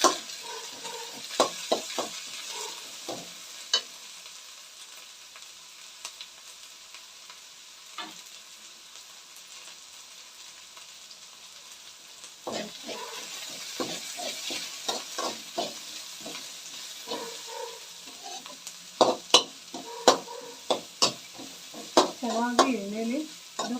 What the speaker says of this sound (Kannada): ಚೆನ್ನಾಗಿ ಎಣ್ಣೆಲಿ ಅದು ಫ್ರೈ ಆಗಬೇಕು ಸ್ನೇಹಿತರೆ.